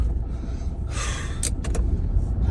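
A car pulls away late at night at around 2 a.m., giving a low, steady engine rumble with a few brief sharp knocks partway through.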